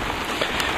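Steady rain falls outdoors onto stacked boxes of a hoard, giving a dense, even hiss of drops with a few louder individual taps, and nobody speaks.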